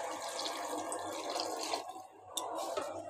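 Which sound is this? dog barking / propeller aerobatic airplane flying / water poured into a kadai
water poured into a kadai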